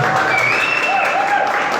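Audience applause for radio training graduates at an entertainment-industry event, a steady wash of clapping filling the short moment with some whistle-like tones riding over it.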